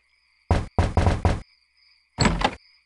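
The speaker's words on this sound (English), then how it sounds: "I think I'll knock." Knocking on a door in the video game The Secret of Monkey Island: a quick run of four sharp raps, a pause, then two more knocks, clear and close against a faint steady hum.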